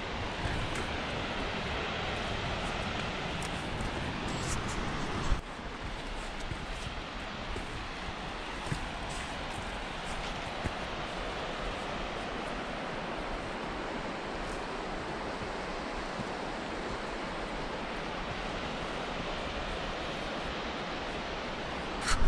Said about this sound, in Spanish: Miren esta cascada tan preciosa.